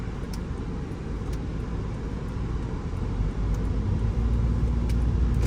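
Toyota Alphard 2.4 automatic from 2012 cruising on an open road, with a steady, close engine hum, rumbling tyre and road noise, and a little wind rush that continue without a break.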